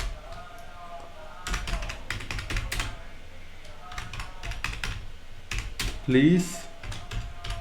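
Code being typed on a computer keyboard in bursts of rapid close key clicks, with pauses between runs, while someone speaks briefly under the tapping.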